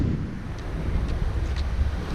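Steady outdoor wind rumble with a continuous wash of sea surf, loud and close, no voices.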